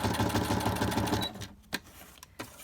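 A sewing machine runs steadily as it stitches straight through a paper book plate, a close, continuous mechanical whir that stops partway and gives way to a few soft handling clicks.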